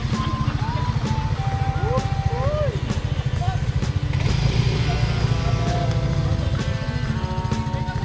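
A motorcycle engine on a rough, unfinished road, its steady low throbbing pulse running close and loud throughout, with speech-like voice contours heard over the engine.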